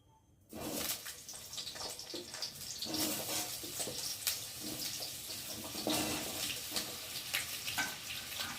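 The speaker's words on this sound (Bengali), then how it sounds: "এখন এই যে ছোট ছোট কেটে রাখা আলুগুলোকে দিয়ে প্রথমে ভালো করে ভেজে আগে তুলে নেব।" Small cut potato pieces hit hot oil in a pan and set off a loud, continuous crackling sizzle that starts abruptly after a brief silence and carries on with bursts of spattering.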